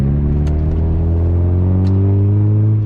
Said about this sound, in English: you can actually hear the car, and that's with the baffler out the back box as well